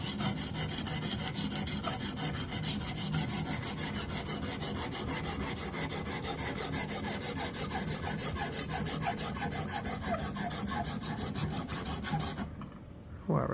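Rapid, evenly repeated rasping strokes of a knife blade on a Xarilk Gen3 sharpener, close and steady, ending abruptly before a brief pause.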